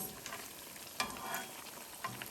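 Soft sizzling of vadas frying in hot oil, with a couple of brief clinks or stirring sounds, no voices.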